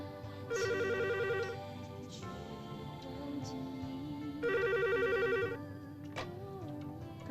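An indoor telephone in a 1987 film scene rings in two distinct bursts of rapid electronic trilling, with a soft, sustained tonal background between rings.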